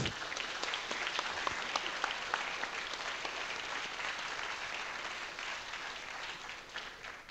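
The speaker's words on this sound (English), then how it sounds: "Please join me and give them the loudest applause they deserve." Audience applause for finalists at a university three-minute thesis competition finale, a dense, steady wash of many hands clapping that holds evenly throughout before easing slightly near the end.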